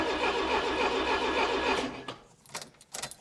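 A barn-find Peugeot 304 engine cranking on the starter, a steady churning whir for nearly two seconds that stops, followed by a few faint clicks and rattles.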